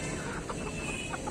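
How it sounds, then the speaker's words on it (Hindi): Chickens cluck softly and continuously at a busy poultry market selling desi and layer hens and white roosters, a faint murmur of hens over steady background noise. "ये देखिए मुर्गा देखिए, व्हाइट कलर का मुर्गा देखिए।"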